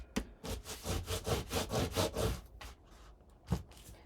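A bone folder is rubbed hard back and forth across paper album hinges of craft cardstock, about a dozen quick rhythmic scraping strokes. A pause follows, then one last sharp stroke, close and fairly quiet, with no talking.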